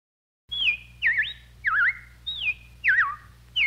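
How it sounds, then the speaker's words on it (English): Robins chirp as a sound effect from Disney's Carousel of Progress, giving about six clear warbling whistled calls in a steady rhythm over a faint low hum. "Well, the robins are back."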